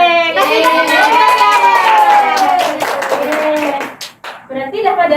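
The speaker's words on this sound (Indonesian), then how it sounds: "Oke, kasih tepuk tangan." Schoolchildren in a classroom clap their hands together for a correct answer, loud and close, mixed with a sustained sung or chanted children's voice over rhythmic claps, briefly dipping before resuming.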